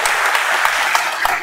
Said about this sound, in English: so I think a big round of applause for Carmen.